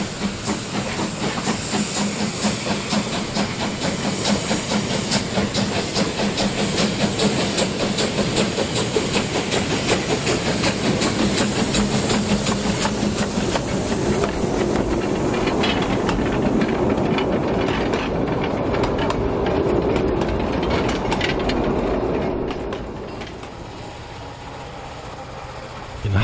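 A steam locomotive on a narrow-gauge field railway passes close by with loud hissing steam and rhythmic rail clatter, then fades toward the end of the clip.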